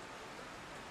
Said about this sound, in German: Jetzt regnet es übrigens.